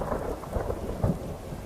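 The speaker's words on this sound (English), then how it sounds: "When is this rain gonna let up?" Steady rain pours down with low rumbles of thunder rolling through in the video game Skyrim, no voices, a continuous wet hiss throughout.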